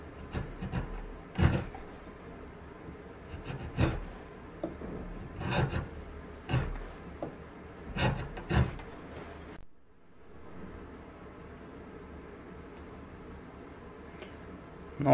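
A homemade scraper blade cut from a piece of steel water pipe is sanded by hand with sandpaper, giving several close, rasping strokes in bursts before the clip goes quiet.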